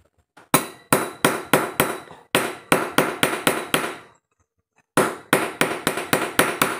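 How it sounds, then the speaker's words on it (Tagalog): A hammer strikes metal while a washing machine's broken guard lock is being replaced: three quick runs of five to six sharp, loud, ringing blows with short pauses between, heard alone with no talk. "pupukpukin lang natin yan sa martilyo"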